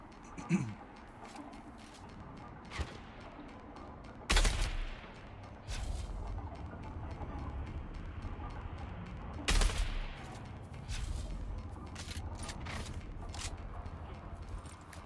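Sniper gunfire in the game Dune: Awakening, sharp cracks standing out at about four and nine and a half seconds against a steady ambient bed of wind and distant battle noise, with no voices.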